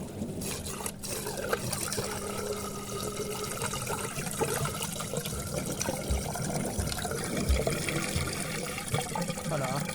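Dirty water drains out of a Miele washing machine drum in a steady, continuous trickling and gushing flow lasting the whole stretch, fairly close and even in level.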